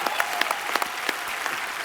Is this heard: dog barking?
no